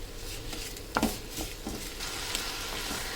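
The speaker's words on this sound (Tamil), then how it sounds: "இந்த தக்காளி நல்லா மசியணும். மசிகிற வரைக்கும் நம்ம வதக்கிக்கலாம்." Tomatoes with ground masala and turmeric sautéing in a pan for a village-style dry fish curry, a steady faint sizzle with a few soft spoon scrapes and a brief clink near the middle.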